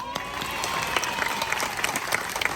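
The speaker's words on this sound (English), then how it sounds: "Applause." Audience applauds at the Creatures of the Night presentation at Singapore's Night Safari, a dense steady clapping with a few whistles and cheers standing out, sustained and fairly close throughout.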